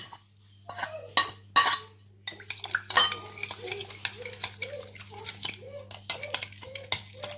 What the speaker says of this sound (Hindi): अब हम लेंगे एक बाउल, इसमें ऐड कर ले लेमन जूस, दही ऐड कर दे, ये अपने सारे स्पाइसेस ऐड कर दे, इन्हें डालकर अच्छी तरह से हम कर लेंगे मिक्स